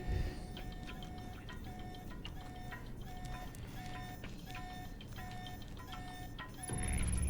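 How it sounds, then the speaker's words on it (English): A repeating electronic alarm beeps in a regular pulsing rhythm in the Alpha Protocol video game, steady and moderately loud, then changes to a continuous high tone near the end. "There's the alarm."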